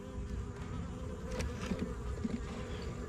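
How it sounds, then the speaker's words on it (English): A wasp buzzes steadily close by during a Layens beehive inspection in autumn, a continuous droning hum with no talking. "Oh, and there's a wasp"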